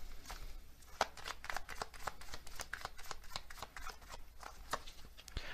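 A deck of oracle cards being shuffled close up, producing a steady run of crisp riffling flicks and soft slaps at a quiet level for several seconds, with no talking.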